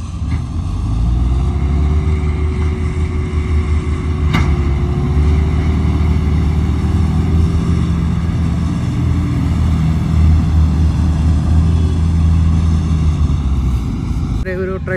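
A tractor engine runs at a steady idle, a loud, continuous low drone held for the whole stretch, with people talking over it.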